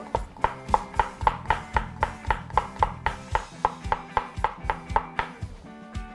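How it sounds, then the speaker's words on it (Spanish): Garlic being chopped finely with a knife on a cutting board, a steady run of about twenty crisp, evenly spaced taps, close and alone without speech. "Vamos a picar nuestro ajo finamente."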